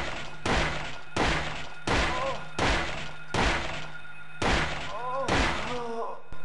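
Repeated heavy gunshots in Silent Hill 1, roughly eight loud, evenly spaced blasts fired at monsters, each a sharp broadband crack with a short decay, over a faint steady game hum.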